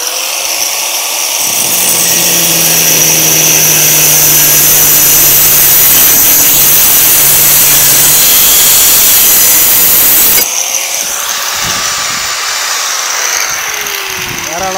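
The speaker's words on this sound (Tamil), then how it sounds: "ஒரு இரும்பு பைப் வந்து வச்சுருக்கேன். இதை வந்து கட் பண்ணி பார்ப்போம் எந்த அளவுக்கு கட் ஆகுது" A restored power tool cuts through an iron pipe with a loud, continuous grinding whine. The cutting starts abruptly, holds steady and harsh, then shifts tone near the end. It is very close and drowns out any other sound.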